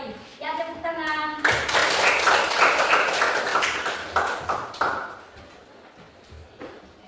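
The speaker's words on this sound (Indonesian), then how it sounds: "Ya, tepuk tangan." Students clapping in an Indonesian classroom after a good answer, a short burst of individual claps close by that thins out and fades, preceded by a teacher's voice.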